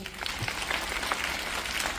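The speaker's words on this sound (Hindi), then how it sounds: "सब बच्चे ताली बजाओ जरा।" Group of children clapping together at a school Children's Day celebration, a dense steady patter of small hands throughout, fairly even in level.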